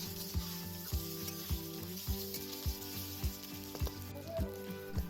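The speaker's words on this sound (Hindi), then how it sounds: "घी के गर्म होने के बाद हम इसमें पनीर की स्लाइस को डाल देंगे और 1 मिनट तक फ्राई करेंगे मध्यम आंच पे" Paneer slices frying in hot ghee in a kadhai over medium heat, a continuous sizzle punctuated by regular utensil knocks and scrapes against the metal pan, close and steady.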